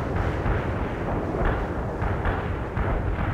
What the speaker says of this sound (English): The barrage is on the way.